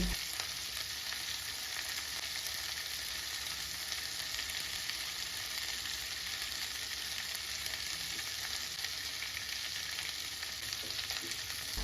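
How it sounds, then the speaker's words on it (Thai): Shrimp frying in hot oil in a pan for Pad Thai, a dense, continuous bright sizzle that stays loud and even throughout with no voices. "ทอดกุ้งให้สุกแค่ปานกลางไม่ต้องทอดนานค่ะ"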